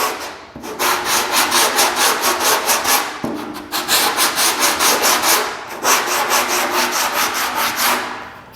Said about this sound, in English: I'm gonna scuff this up a little bit, and then I know that I need to come back and put another coat on there.